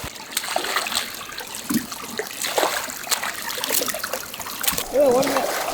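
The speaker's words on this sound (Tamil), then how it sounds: "தண்ணியே கொட்டிட்டு போயிருக்கு." Water spills and splashes in bursts during cooking of kappa, a Kerala tapioca dish, with patchy trickles and splatters heard close under ongoing talk.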